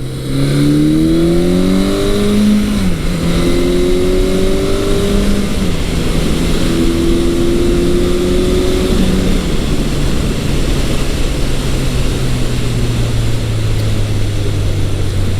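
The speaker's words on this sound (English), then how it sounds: "let you hear the stock exhaust here" A 1983 Suzuki GS1100L motorcycle with stock exhaust revs up through several gears while riding, its exhaust note rising and dropping between shifts, then settling into a steady cruise over wind noise.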